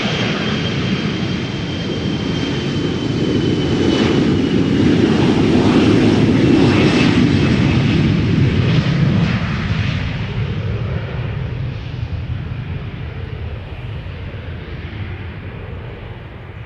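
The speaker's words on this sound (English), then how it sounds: "KLM 1059 in the meantime spooling up, going to Cardiff, Embraer" A KLM Embraer 175 at Schiphol Airport spools up its jet engines, a loud, close rumbling roar with a thin whine that swells, holds, then slowly fades.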